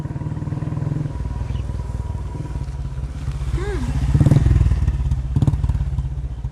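An old, battered motorbike rumbles close by with a steady engine drone that swells as it arrives, along with a few clattering thumps.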